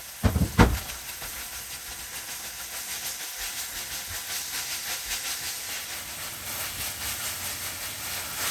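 Chopped white onion stalk sizzling in sesame oil in a pan, a steady close hiss and crackle of frying with a brief clatter near the start as the onion goes in.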